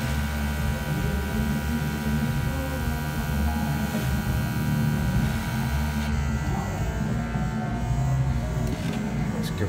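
Airbrush with its nozzle removed sprays paint onto a Gothic garage tabletop terrain model, giving a steady, close hiss and hum that runs unbroken throughout, a little softer after the midpoint.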